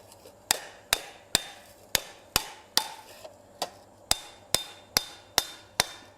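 A hammer strikes hot metal on an anvil while a garden hose hook is forged, a dozen sharp ringing blows at a fairly even, unhurried pace, heard close with no talk.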